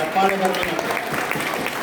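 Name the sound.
applause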